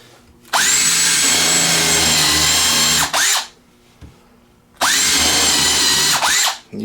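A brushed 4-pole cordless drill in high range drives a small countersink bit in two loud bursts of steady high-pitched whine, each winding down as the trigger is released, with a short quiet gap between.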